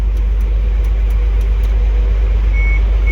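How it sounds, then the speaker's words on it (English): Short electronic beeps repeat from a Prevost H3-45 coach running a light-check cycle over the steady low rumble of its idling engine. "once the bus is beeping, that means it's running through a cycle"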